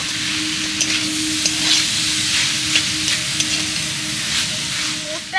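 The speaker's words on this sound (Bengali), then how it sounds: "এইভাবে সুন্দর করে মিশিয়ে নেড়ে চেড়ে পুরটা রেডি করে নেব" A filling of soybean and potato is stirred in a hot pan, giving a steady loud sizzle and frying hiss marked by small scraping clicks of the spoon, with a faint voice near the end.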